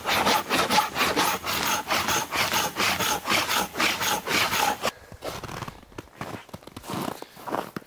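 A moose hide being scraped by hand outdoors in minus 20 degree cold gives steady, rhythmic rasping strokes, loud and close, then a few sparser, quieter scrapes near the end.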